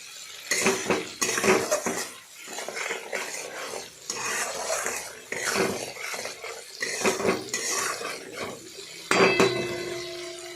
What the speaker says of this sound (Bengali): হলুদ দিয়ে সেটাকে এদিক ওদিক করে নাড়াচাড়া করে ভেজে নিলাম